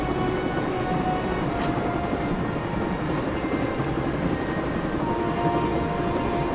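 Train interior ambience in Broken Sword, a dense, steady rumble of the carriage with constant rattling and rushing noise, loud and unchanging throughout, no voices.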